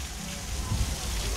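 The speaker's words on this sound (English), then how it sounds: "And would you look at that? It's raining!" Steady, broadband hiss and patter of rain falling, with a faint voice murmuring underneath.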